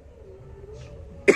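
A single sharp cough from a person with a fever bursts out near the end, loud and close, following a stretch of quiet room tone with a faint hum.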